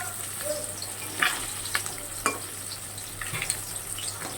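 Katla fish pieces fry in hot oil in a home kitchen, a continuous crackling sizzle broken by a few sharp spatters and pops over several seconds, with a faint steady hum underneath.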